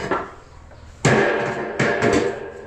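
A hammer strikes sharply two or three times during indoor ceiling and tile renovation work, with each hard impact ringing out over a low, steady room background.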